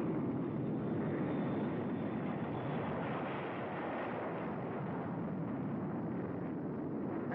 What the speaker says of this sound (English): drone jets, pilotless, crewless, at super speed flown up into the night sky